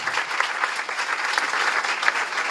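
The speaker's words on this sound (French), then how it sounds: "Merci de l'applaudir bien, bien," Audience applause for Miss France Indira Ampio at a press conference for Miss France candidates, a dense, steady burst of clapping from a crowd throughout.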